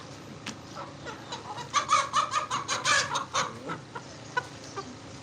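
An Aseel rooster clucks in a run of loud, close, rapid calls that peak midway and trail off into a few scattered clucks.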